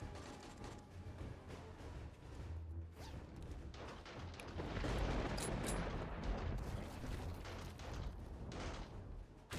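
Explosions and crashing destruction in the survival game 7 Days To Die, a dense rumbling barrage of blasts and impacts that swells louder midway and keeps going without a break.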